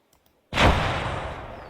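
A Lucius pattern twin-linked lascannon fires in a Warhammer 40,000 game, one sudden heavy blast after near silence that then trails into a long, roaring, slowly fading decay, loud and close.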